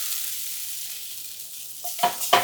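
Liquid is poured into a hot cast iron pan and sizzles, a steady hiss followed by two short louder bursts of spattering near the end, with no voices.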